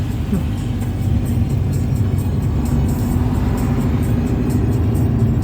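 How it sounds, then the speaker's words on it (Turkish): A car pulls away on a driving-school practice track as the driver releases the clutch and presses the gas, a loud, steady close engine drone throughout. "Kaldırdım debriyaj. Dokunuyorum gazıma. uzaklaşıyorum araçlardan."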